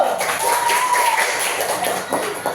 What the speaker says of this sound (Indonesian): Oke, tepuk tangan semua dulu.